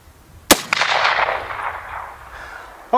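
A long-barrelled Colt or Winchester rifle fires one sharp, loud shot outdoors, followed by a long rolling echo and a faint later report.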